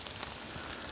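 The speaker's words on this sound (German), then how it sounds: "Ja, regnet tut es immer noch." Steady rain falls outdoors as a dense, even hiss of drops with no breaks and no talking over it. It is faint and continuous across the moment.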